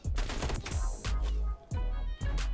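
Bursts of rapid assault rifle fire in Call of Duty Cold War, four or five loud, close volleys separated by brief pauses.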